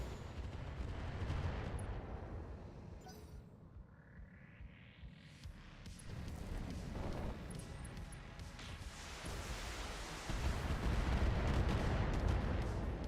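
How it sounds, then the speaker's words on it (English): A missile barrage fired in the mech combat game BattleTech makes a dense run of rumbling, thudding launches and explosions, rising to heavy booms near the end, with no voices. "That was a lot of missiles."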